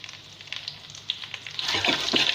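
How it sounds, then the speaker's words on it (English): Crayfish fry in a pan for a dish of ekpang nkukwo, giving a soft, close sizzle that grows louder and more crackly toward the end, with faint stirring. "Notice I'm frying crayfish first before onion and other things."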